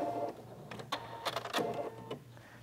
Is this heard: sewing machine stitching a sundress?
yes